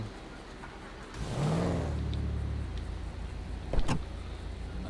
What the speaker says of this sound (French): je vais ouvrir les portières